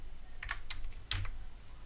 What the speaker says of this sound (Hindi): मैं क्या करता हूं यहां पे लिखता हूं जॉन स्मिथ